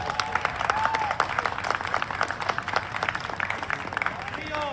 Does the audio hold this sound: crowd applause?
yes